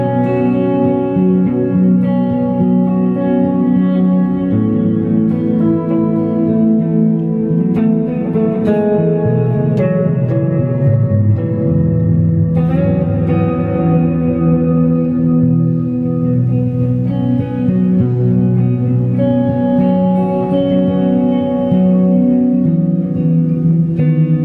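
Electric guitar run through the Deluxe Comp compressor effect on an HX1 pedal, playing sustained chords and melodic notes with an even, squeezed loudness and some reverb, loud and steady for the whole stretch with no talking.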